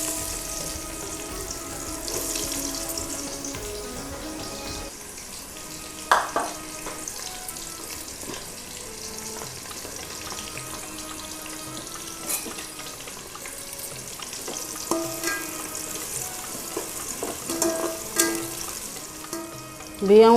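Onions dropped into hot oil for mutton pulao, giving a steady close sizzle and frying crackle with occasional stirring clatter and sharper pops near the end.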